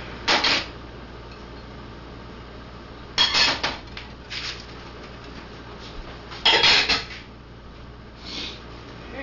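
Scraping of a spoon stirring a pot of chunky vegetable stew with garbanzo beans and Kalamata olives, in three or four short bursts with quiet between.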